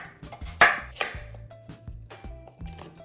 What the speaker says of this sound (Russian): Режем яблоки на кусочки